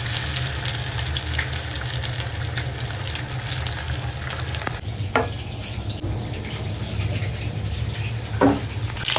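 Chicken pieces frying in hot oil give a steady, dense sizzle throughout, with a couple of brief clinks or stirring bumps partway through and near the end.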